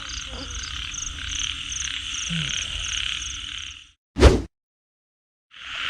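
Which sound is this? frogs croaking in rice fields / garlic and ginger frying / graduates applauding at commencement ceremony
frogs croaking in rice fields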